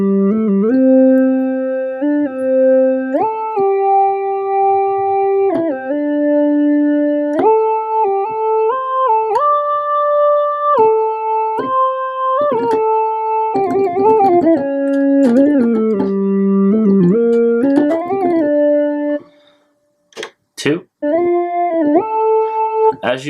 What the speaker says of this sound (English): you're going to get a more detuned type of sound, almost like a chorusy effect